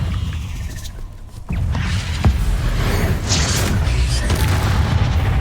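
Incendio fire spell cast in a wizard game, heard as a sudden deep boom with a whooshing burst, followed by a sustained roaring rush and crackling pops.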